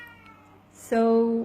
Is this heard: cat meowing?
yes